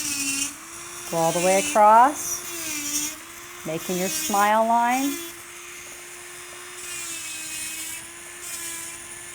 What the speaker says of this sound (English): Set your drill bit in there. Go all the way across.